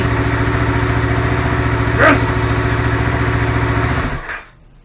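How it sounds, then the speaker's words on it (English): A restored Yamaha R3 motorcycle engine idles steadily with a low, even rumble after an ignition replacement, then cuts off and fades to near silence at the end. "The bike runs, the motor's good"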